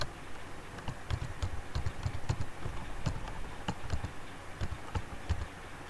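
Computer keyboard being typed on: a quick, irregular run of light key clicks close by, fairly quiet and continuous throughout, with no voices present.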